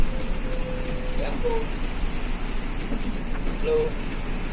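Heavy rain pours on a moving intercity bus on the Surabaya–Jakarta route, a dense steady hiss mixed with road and engine rumble, with faint voices and a few brief tones in the background.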